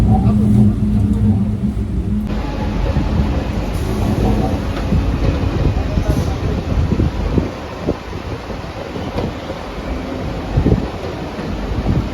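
A steady low rumble of a moving train bound toward Bardhaman, India, fills the clip, with rattling and broadband rushing noise, close and continuous throughout.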